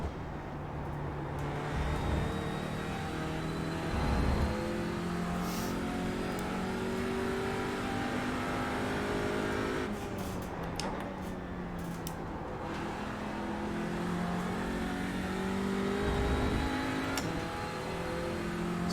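An Audi TCR race car engine revs and shifts through gears while racing at Laguna Seca in a racing game, a continuous close, loud drone that rises and falls with acceleration.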